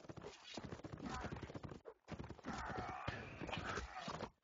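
Horse cavalry in a tournament match of a strategy video game makes quick, faint clip-clop hoofbeats in a steady run, with a brief gap near the middle.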